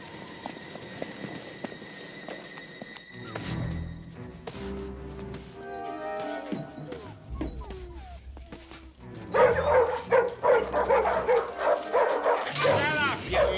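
Dogs bark and yip in short bursts, some near and some farther off, growing busier toward the end amid other sounds.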